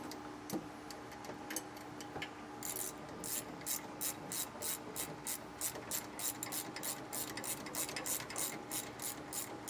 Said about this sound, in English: on this side, I'm using a 14mm socket